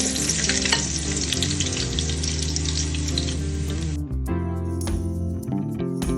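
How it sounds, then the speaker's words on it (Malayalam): Sliced onions fry in hot oil for Malabar ghee rice, a loud, steady crackling sizzle heard close up with background music playing over it. "ഓയിൽ ചൂടായി കഴിഞ്ഞാൽ സവാള കട്ട് ചെയ്ത് ചേർത്ത് കൊടുക്കാം"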